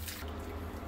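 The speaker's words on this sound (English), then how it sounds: "I'm adding in hot water here, about 600." Hot water pours steadily into a cooking pot for sweet potato leaves in coconut milk, a brief, even liquid rush heard close and fairly quiet with no talk.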